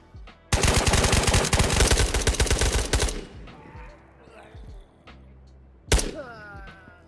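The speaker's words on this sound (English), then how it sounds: "he's literally getting shot at" Gunfire in the Ghosts of Tabor video game: a loud rapid burst of automatic shots lasting a few seconds, fading into echoes, followed by one more sharp shot, with faint voices underneath.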